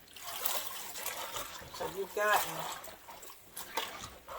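Collard greens are tossed and flipped in a sink of rinsing water, giving soft, irregular splashes and trickles nearby, with a person talking briefly over the sloshing.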